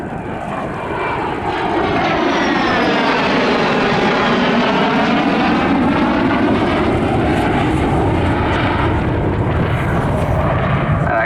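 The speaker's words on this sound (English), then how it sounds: "from the Swedish Air Force historic flight, please welcome Stellan Andersson in the SAAB 37 Viggen" Saab 37 Viggen jet fighter of the Swedish Air Force historic flight displaying at Southport airshow 2019: a loud, sustained jet roar that swells within the first second and holds steady as the aircraft passes nearby with a sweeping Doppler shift.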